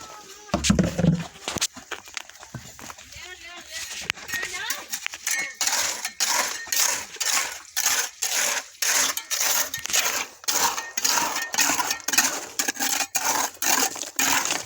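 Mortar being slapped and spread on a brick wall with a trowel, repeated scraping and tapping strokes in an uneven rhythm, close up, with someone talking throughout.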